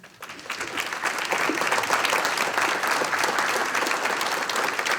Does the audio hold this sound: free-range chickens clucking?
no